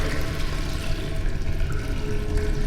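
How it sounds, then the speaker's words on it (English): A toilet flushing in the video game Stasis: a steady, close rush of running water that holds at an even level for a few seconds with no voices over it. "Looks like all I can do is flush it"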